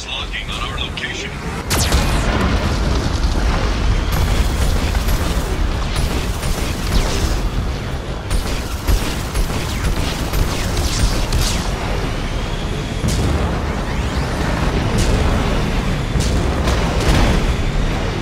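Geth cannon blasts and explosions in the video game Mass Effect 2, Project Overlord: heavy booms and mechanical crashes over a loud continuous roar, with a synthetic voice speaking over the action.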